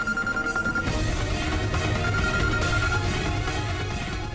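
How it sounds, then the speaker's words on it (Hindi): A telephone rings in a Hindi television drama scene, its bell tone sounding steadily under a loud, dense musical score with no talking. "फिर से वही फोन।"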